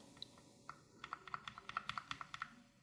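Keys are typed on an Akko MonsGeek FUN60 keyboard with linear magnetic switches, about a dozen quiet, close clicks at an uneven, quickening pace with no talking.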